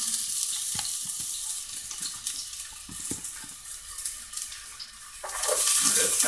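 Celery hits hot oil in a pot on the stove and sizzles continuously, a close, steady crackling hiss that swells louder near the end, with no talking.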